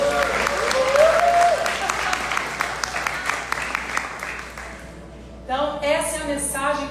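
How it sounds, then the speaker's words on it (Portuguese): Church audience applauding singers at a worship service, a steady wash of clapping over a sustained held vocal note, fading out before a voice speaks over music near the end. "Vocês podem aplaudir os cantores aqui?"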